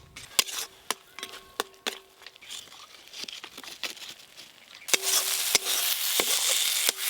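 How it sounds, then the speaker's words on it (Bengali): Mashed pointed gourd stirred in a pan to dry out its water: sharp spatula knocks against the metal at an irregular beat, then a louder hissing sizzle with scraping as cooking continues. "এইভাবে নেড়ে নেড়ে পটলের যে জলটা আছে শুকিয়ে নেব"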